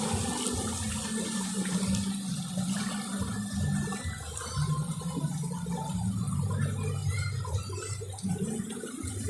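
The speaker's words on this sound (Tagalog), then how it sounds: "Yung agos ng tubig, hanggang doon. Pababa." The Nagcarlan river's current flows downstream, a continuous close rush and gurgle of water that holds steady throughout.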